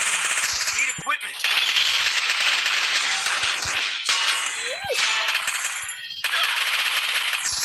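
Video-game gunfire crackles in sharp bursts over a busy, dense game soundscape, with loud near shots and a voice speaking briefly in between.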